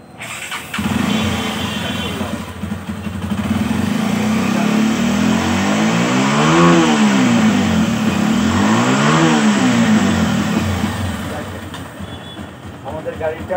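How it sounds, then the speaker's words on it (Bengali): Motorcycle with a freshly repaired carburetor and worn piston pin starts up, then idles and revs in two clear rising-and-falling swells, loud and close throughout with someone talking over it. "তো আমরা বাইকটা এখন স্টার্ট করব"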